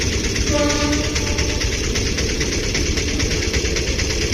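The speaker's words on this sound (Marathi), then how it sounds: "ट्रेन क्रॉस होते." A train rumbles loudly past a railway level crossing on a road trip from Hampi to Gokarna, with a brief horn note early on and a continuous rhythmic clatter of wagons over the rails.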